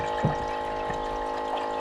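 Coolant flows through an intercooler pump system on a Cobra with a Kenne Bell supercharger as the pump primes, giving a steady hum with soft watery gurgles and a few small splashes.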